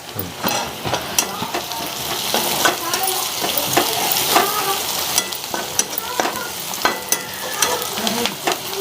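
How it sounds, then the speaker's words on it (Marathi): Onion that has turned reddish sizzles in a pan as cumin seeds are added, a steady frying hiss broken by repeated sharp scrapes and clinks of a spoon stirring against the pan, close and fairly loud. "कांदा लालसर झालाय आता थोडा आपण जिरं टाकूया त्याच्यात"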